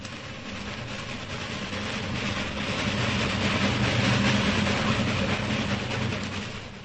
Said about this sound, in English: He hears a train roaring through the night.